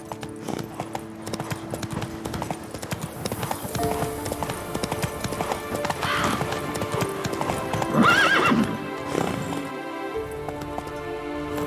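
A horse in The Witcher 3 gallops with a steady, rhythmic clip-clop of hooves and lets out a clear whinny partway through, with snorting and movement noise around it.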